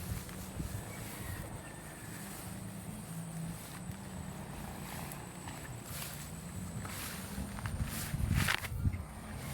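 Strong wind gusting across a rice field close to harvest, a steady rushing roar through the whole stretch with rustling and buffeting that swells near the end, no talk.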